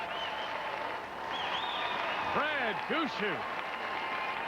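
Crowd applause filling a curling arena at the Metro Center in Halifax during the 2005 Canadian Olympic Curling Trials, a steady broad roar from a large audience under a commentator's voice.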